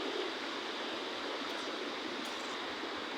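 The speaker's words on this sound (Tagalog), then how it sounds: "Malaki pa itong ilog na to." River water rushes beneath a broken bridge in Nueva Vizcaya, making a loud, constant roar of flowing water with no breaks.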